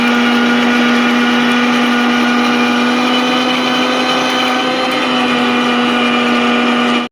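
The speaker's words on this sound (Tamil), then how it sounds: "ஸோ இதெல்லாமே சேர்த்து ஃபைன் பேஸ்ட்டாக நம்ம கிரைண்ட் பண்ணி எடுத்துகிட்டு வந்துடலாம்." A mixer grinder runs steadily as it grinds coriander, mint and spices into a fine paste, giving a loud, close, unbroken motor whine with a constant pitch for several seconds before it abruptly shuts off.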